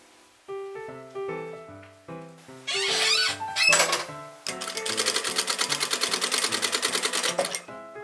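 A sewing machine stitches a quilted table mat made from quilting batting, bias tape and fabric, running in a fast steady buzzing rhythm after soft music, loud and close throughout.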